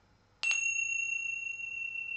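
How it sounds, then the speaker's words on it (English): A single close bell strike rings out with a bright attack and a long, clear sustained tone that fades only slightly over two seconds, alone in a quiet room. "And you had a double bell."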